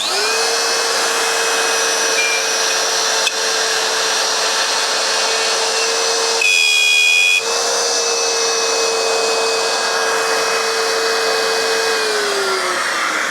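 A plunge router cuts loose-tenon mortises in wood using a jig with referencing pins, giving a steady high-pitched whine that holds through the cut, with a brief louder surge midway and a slight pitch drop as it winds down near the end.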